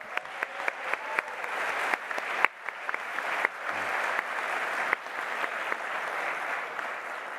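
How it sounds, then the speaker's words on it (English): Audience applause at a master's graduation ceremony: sustained, even clapping from a large crowd with a few sharper individual claps standing out, heard alone without speech. "Please join me in a round of applause."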